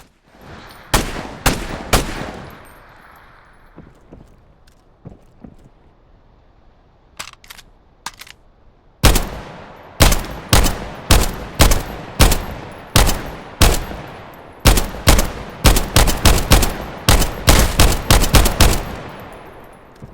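Gunfire from weapons in the VR battle royale game Contractors Showdown, fired at dummy targets: a quick burst, a few scattered single shots, then long rapid strings of loud, sharp cracks at close range with no talking.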